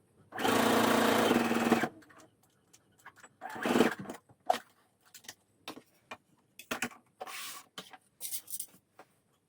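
A sewing machine hems the sleeves of a dress, with one sustained close stitching run at the start, then a string of short, irregular bursts and clicks.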